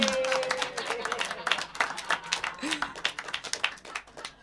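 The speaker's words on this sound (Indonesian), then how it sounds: "tepuk tangan" Audience applause for a ventriloquist at an open mic comedy show, a steady patter of many hands clapping at moderate loudness throughout, with voices faintly mixed in beneath.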